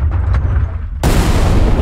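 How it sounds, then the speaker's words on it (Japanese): A car blows up in the horror game Bite Size Terrors: see no FEAR, in a forest at night after a crash. Quiet ambience is cut by one sudden, loud, close blast that roars on afterward. "いや、しました。 ちゃんと爆発しました。"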